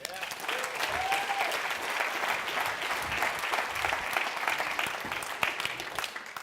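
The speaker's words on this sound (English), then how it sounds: "So I applaud you guys." Steady, dense applause from a large audience at a live business conference, loud and continuous throughout with crowd noise and no speech over it.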